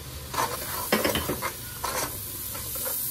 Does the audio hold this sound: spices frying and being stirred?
yes